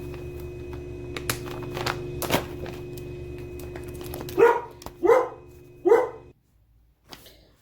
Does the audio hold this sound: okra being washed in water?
no